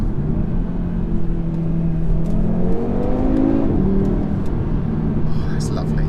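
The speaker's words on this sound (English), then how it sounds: "Now the exhaust is warming up, I'm getting just a little bit of noise" A 2019 Audi RS3 engine rumbles steadily, its exhaust with particulate filter burbling and rising in pitch as it revs, with slight overrun noise and a low continuous drone throughout.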